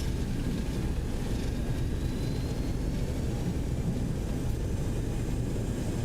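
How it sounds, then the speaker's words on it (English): Jet engine roar from a Boeing 727 rolling out after landing in a flight simulator, thrust reversers deployed, a steady broadband rumble that stays loud and even throughout with no speech. "Touchdown. Reversers deployed."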